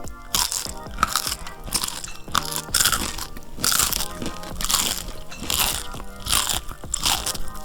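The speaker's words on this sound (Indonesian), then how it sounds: "Pastinya juga teksturnya kriuk. Oke, saya cicip dulu ya." Someone bites and chews crunchy keripik sanjai balado, spicy chili-coated cassava chips, close to the mic, producing loud, repeated crisp crunches and crackles in a steady chewing rhythm.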